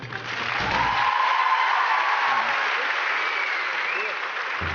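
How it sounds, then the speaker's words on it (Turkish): A TV talent show audience in Turkey breaks into loud, sustained applause that fills the room for several seconds, with a voice briefly audible at the start. "Alkışlar Murat için."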